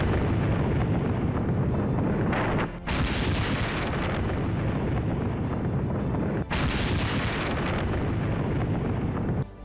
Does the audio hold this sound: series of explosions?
yes